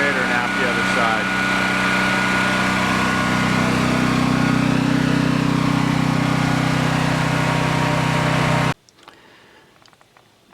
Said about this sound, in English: it just ran for 15 minutes before the fan kicked on